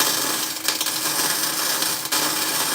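A MIG welder lays a bead on a steel bumper for a Ford Excursion, giving a loud, continuous crackling hiss with a few sharper pops, close and alone.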